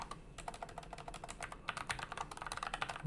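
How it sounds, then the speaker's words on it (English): Quick, steady keystrokes clatter on a computer keyboard as a Docker command is typed, close and fairly quiet, with a brief pause partway through. "let me type this Docker"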